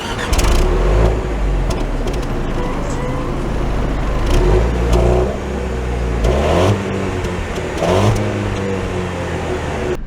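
A 2024 Jaguar XF pulling away, its engine revving up in repeated rising sweeps between gear changes, heard loud and close from inside the cabin with road noise beneath.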